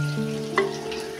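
Masala sizzling and frying in a pan for a Kerala-style fish curry, a steady close hiss with a brief stir midway and no voices.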